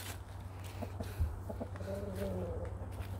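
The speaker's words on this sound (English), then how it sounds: "Got some misbehaving roosters on the outside." Roosters and hens clucking outside a chicken coop, a few short clucks and a soft drawn-out call over a low steady background hum, fairly faint and at a middle distance.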